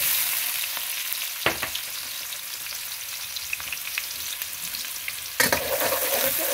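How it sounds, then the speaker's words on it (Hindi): Green chillies and onion fry with asafoetida in a pan for sev bhaji, a constant close sizzle broken by a couple of louder stirring scrapes. "इसे फ्राई कर देंगे अच्छी तरह से।"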